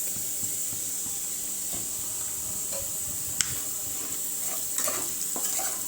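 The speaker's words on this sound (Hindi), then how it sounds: "अच्छे से मिक्स कर लेना है।" Fish curry gravy with crushed coconut being stirred and mixed in a pan, a steady soft sizzle and hiss with faint scraping strokes and an occasional light clink of the utensil against the pan.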